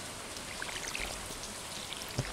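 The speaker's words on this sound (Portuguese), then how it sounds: "Se bem que tá chovendo," Rain falls on the farm in Stardew Valley as a soft, steady hiss with scattered light droplet ticks, quiet and continuous with no voices.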